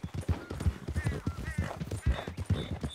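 Horse hooves clip-clop in a steady, brisk rhythm while riding in Red Dead Redemption 2, loud and close throughout with no talking.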